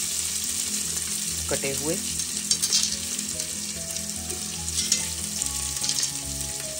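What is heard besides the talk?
chopped onions frying in a pan for chana dal tadka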